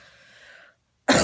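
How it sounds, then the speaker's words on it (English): A single sharp, loud cough bursts out near the end from someone who is sick, after a stretch of faint background sound and a brief silence. "it's just like a cough"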